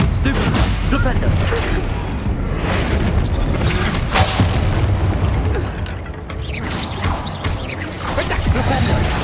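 Explosive Expulso and Confringo spells in Hogwarts Legacy go off as repeated loud booms and bursts amid battle noise, with a voice shouting over them.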